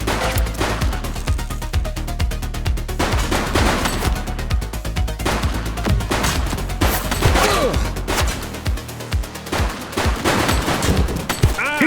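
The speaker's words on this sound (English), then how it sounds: "He's shooting!" Rapid bursts of gunfire from The Precinct, a police action video game, crack repeatedly across the whole stretch, with sustained automatic volleys and single shots over steady background game sound.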